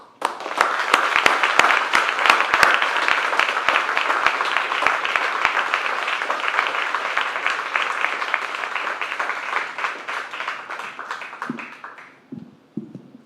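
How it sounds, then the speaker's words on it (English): An audience applauds to welcome a speaker onto the stage at a tech talk event, a dense burst of many hands clapping with distinct sharp claps early on, fading out toward the end as a voice begins. "A big round of applause to welcome him up."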